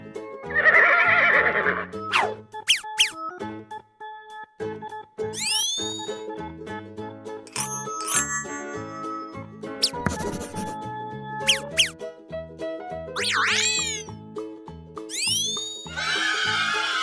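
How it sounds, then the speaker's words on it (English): A horse neighs several times, with high, shaking whinnies that rise and fall, spaced out among other clear animal-like calls, close and loud. "Horse."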